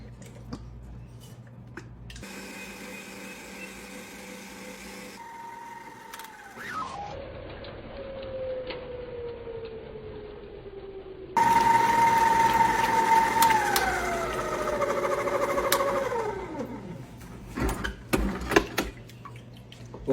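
A stand mixer whips very cold cooking cream into butter, its motor humming and shifting pitch as it speeds up and slows, then running louder with a sloshing churn before winding down into scattered knocks.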